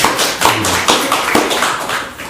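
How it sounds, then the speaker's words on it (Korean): A church congregation gives a brief burst of applause, with sharp, uneven hand claps ringing out close and loud over about two seconds with no talking. "박수 한번 쳐주십시오"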